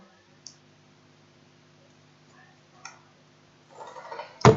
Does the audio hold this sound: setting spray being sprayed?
no